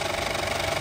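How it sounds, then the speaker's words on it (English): A 70mm film projector runs in a projection booth, giving a steady, close mechanical drone with a fast, even flutter and no voices. "And here is the projector."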